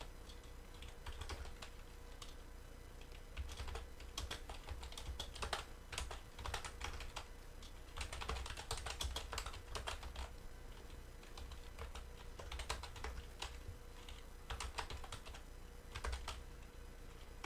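Quick, continuous computer-keyboard typing with clustered keystroke clicks and short pauses, fairly faint and close, with no speech.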